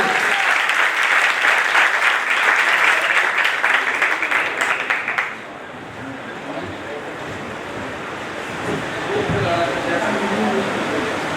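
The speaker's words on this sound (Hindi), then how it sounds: "उस यीशु के लिए जोरदार तालियां बजाएं।" A church congregation at a first-anniversary service of an Assemblies of God church in Malir, Karachi, claps loudly and steadily for about five seconds, then the applause drops away into a quieter, murmuring room.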